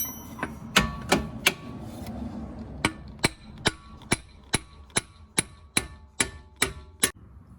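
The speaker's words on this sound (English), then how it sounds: "ended up wailing on it with the fork and the hammer here" A hammer pounds a ball joint fork again and again while separating an Audi S3 8V or Golf R MK7 ball joint, about fifteen loud, ringing metal clangs at a steady rhythm, close by, with no talking.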